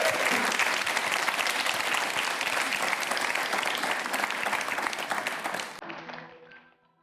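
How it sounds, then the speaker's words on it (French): An audience applauds steadily at a live music performance, dense and loud clapping for several seconds that fades out at the end as a tone begins. "C'est parti, sous vos applaudissements"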